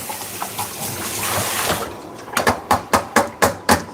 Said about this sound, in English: Let me wash out my strainer so I can use it to.